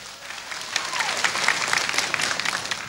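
Audience clapping at a 1993 Thai live comedy stage show, a steady crackle of many hands held at moderate level for about three seconds, with no voices over it.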